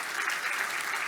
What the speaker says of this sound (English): Give their head table a big round of applause.